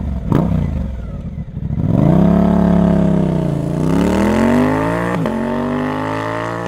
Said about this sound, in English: This creates smooth, linear torque, reduced engine vibration,